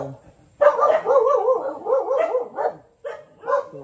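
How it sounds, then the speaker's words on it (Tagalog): Several dogs bark and yip in quick, overlapping bursts close by, with a few pauses between volleys and whining tones mixed in. "Nagtatawalan yung mga aso ko"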